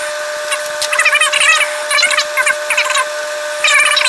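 A Southbend 13-inch metal lathe takes a light facing cut on a steel screw blank, giving a steady machine hum with a sustained high whine and bursts of squealing cutting noise over roughly four seconds, close and fairly loud.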